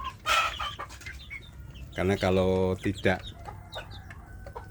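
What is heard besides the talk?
free-range chicks clucking while feeding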